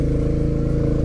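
Royal Enfield Meteor 350 motorcycle engine thumping steadily at close range, a loud, even single-cylinder pulse with no voices over it.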